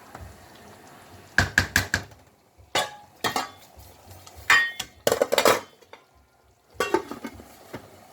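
A spoon stirs jollof rice in a cooking pot, giving irregular bursts of metallic scraping and clanking against the pot with quiet pauses between them and no voices.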